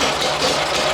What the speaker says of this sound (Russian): Но главное, что мотор работает.